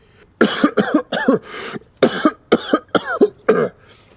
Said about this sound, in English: He tries to get up, but is interrupted by a fit of coughing.